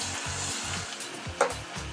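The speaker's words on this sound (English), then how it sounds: "deep frying them until they're golden brown" A soft, steady sizzle of potato slices deep frying in hot oil, with faint low bubbling pulses and one brief clink.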